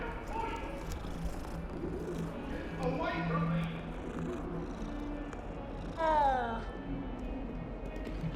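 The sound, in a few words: cat meowing in Hogwarts Legacy video game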